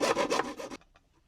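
A thin-blade hand saw cuts through material in quick, close rasping back-and-forth strokes, about five rapid passes that stop abruptly, leaving a few faint scrapes.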